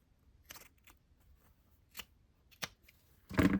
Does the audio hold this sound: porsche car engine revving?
no